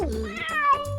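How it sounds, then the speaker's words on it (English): A cat meows once, close and clear, the call rising and then sliding down over about a second, with no voices around it. "That's a cat meowing."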